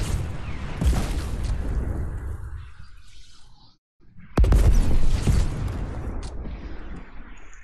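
Heavy rocket blasts in the video game Fortnite, two deep booming explosions separated by a brief near-silent gap, the second louder and closer, with rubble and debris rumbling after each.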